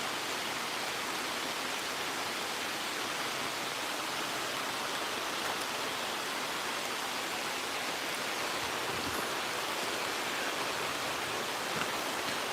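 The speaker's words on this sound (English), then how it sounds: "A little bit rainy, it's fine." Light rain falls steadily outdoors at a Herkimer diamond mine, a continuous soft hiss of drops spread evenly through the whole stretch with no talking.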